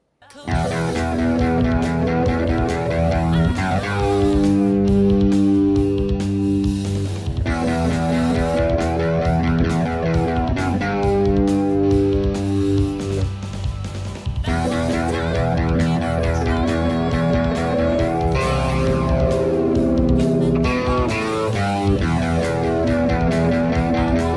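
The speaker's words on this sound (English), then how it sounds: "a flanger is, well, more like a jet plane" A loud, distorted electric guitar through a Spark amp plays sustained chords and riffs, its tone continuously swept by a flanger's jet-like whoosh.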